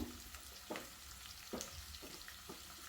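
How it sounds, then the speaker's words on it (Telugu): Chopped onions and curry leaves fry in oil in a pan for a Telangana-style mutton curry, giving a soft, continuous sizzle broken by a few light stirring scrapes, quiet and with no talk. "ఆనియన్స్ని మంచిగా ఫ్రై చేసుకోవాలి"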